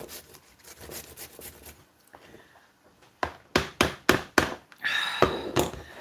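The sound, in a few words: grating zucchini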